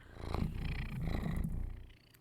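A cat purring in the video game Please Be Happy, a soft, low rhythmic purr in two swelling cycles that fades out near the end, heard alone without talk.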